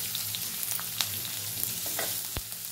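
Onions and curry leaves for Tamil-style potato poriyal sautéing in a pan, a steady close sizzle with scattered taps of the spoon and one sharp knock near the end, no talking.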